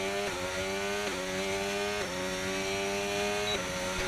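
An F1 car engine in the F1 25 racing game revs high and steady, with a sharp stutter at each gear shift roughly every second, loud and continuous with no talk.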